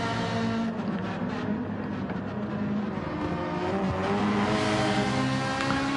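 Race cars on soft tyres run close together in a multi-class battle for position, engines droning steadily and loud throughout with no voices over them.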